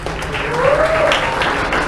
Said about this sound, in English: Delegates of Russia, please have a round of applause